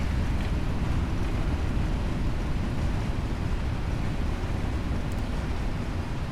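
Steady, broadband roar of a PMDG 777 airliner's engines at idle reverse thrust during landing rollout in a flight simulator, a continuous rushing drone with no pauses.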